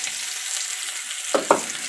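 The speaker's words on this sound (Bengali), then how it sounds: "আর এদিকে মাংসের জন্য আলুটা একটু ভেজে নিচ্ছি।" Potatoes frying in a pan for duck curry give a steady, close sizzle throughout, broken near the end by two quick louder bursts as the pieces are stirred or turned.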